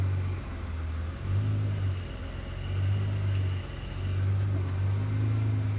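Ferrari 400i idling with the clutch pedal pressed, its failing release bearing adding a low, wavering drone and rumble that swells and fades over the steady engine noise.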